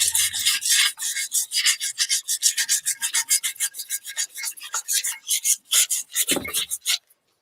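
Sandpaper rasps against a MakerFlo tumbler in quick, rhythmic back-and-forth strokes, close and crisp, dozens of short scrubbing passes dulling its shiny finish with no talk.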